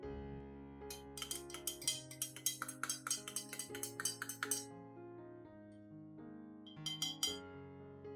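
A spoon stirs lemon water in a glass, producing rapid bright clinks in quick bursts, a pause, then a final short flurry, close and clear over soft background music.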